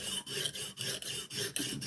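A Rough Ryder knife blade is drawn across a Lansky guided sharpening stone in short, even rasping strokes, about seven quick passes with brief gaps between them, close and clear with no voices.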